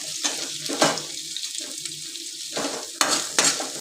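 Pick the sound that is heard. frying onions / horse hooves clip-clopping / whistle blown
frying onions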